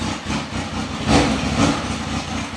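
A motorcycle engine rumbles steadily at idle nearby, with a brief rise in the middle like a light blip of the throttle before settling again.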